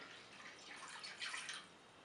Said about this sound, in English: So I've put the chicken, add water.